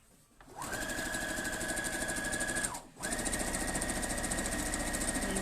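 A sewing machine runs in fast, steady bursts stitching the last seam of a quilt block, a close mechanical whirring that briefly pauses before resuming.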